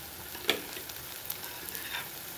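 Two spoonfuls of mild yogurt hitting a hot pan of vegetable kofta curry give a faint, steady sizzle, with one sharper crackle early on and a few light spatters after, quiet and without voices.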